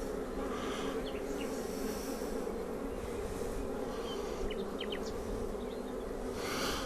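Dense, steady droning hum of many honeybees in an open hive during inspection, continuous and close, filling the whole stretch without pause.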